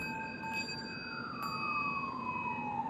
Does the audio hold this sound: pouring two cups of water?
no